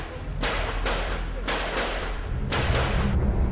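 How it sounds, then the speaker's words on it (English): Several sharp gunshots crack out in irregular bursts, some in quick pairs, with echoing tails over a steady background rumble, during the 2008 terrorist attacks in Mumbai. "And then suddenly we heard more gunfire."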